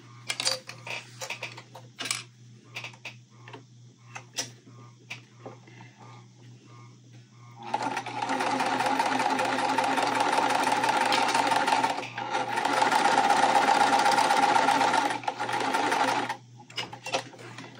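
A sewing machine stitches quilting fabric in two sustained loud runs with a brief pause between, preceded by scattered handling clicks and taps.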